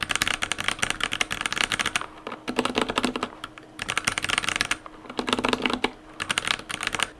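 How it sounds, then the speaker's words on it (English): Rapid, crisp typing on a computer keyboard with plastic keycaps, bursts of sharp high-pitched clicks separated by short pauses, close and clear with no talking. "my normal keycaps are plastic, so they sound pretty like high pitched"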